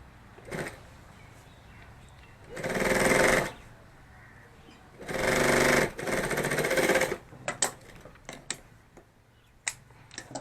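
A sewing machine stitches along the side of a handmade fabric pen bag with a zipper, running in two sustained close bursts of a few seconds each, then a shorter run followed by scattered clicks and handling taps.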